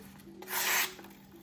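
CIVIVI Hyperpulse knife slicing through material, one brief close scraping rasp lasting under half a second against a quiet background hum.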